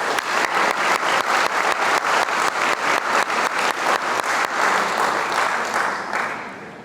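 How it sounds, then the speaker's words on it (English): Staff at a public schools convocation clap in rhythmic unison, a loud, steady beat of many hands keeping strict time, then breaking into looser applause that fades at the end. "Do we have one more round of applause for all our new staff members?"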